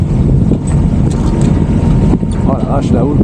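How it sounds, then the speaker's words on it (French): A boat motor runs at sea in a heavy swell, a loud steady rumble mixed with wind buffeting the microphone, while people talk over it. "Vas-y, remets le moteur."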